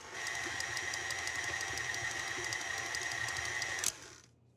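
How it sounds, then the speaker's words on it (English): Electric mixer on low speed blending shortbread dough of butter mixture and dry ingredients, a steady whirring motor hum with a rhythmic clatter that runs evenly for about four seconds, then shuts off abruptly. "I'll start mixing this on low speed to start and then increase it"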